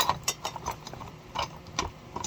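Ratchet wrench clicking in short quick bursts while tightening the flywheel nut on a chainsaw, close up with a steady ticking rhythm and no talk.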